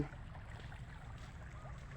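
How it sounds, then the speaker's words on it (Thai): Floodwater rushing steadily across flooded ground on a trip to dig wild tubers, a continuous low churning wash that stays close and even for the whole stretch, with no voices over it. "ดูน้ำอะน้ำไหลขักๆเลย"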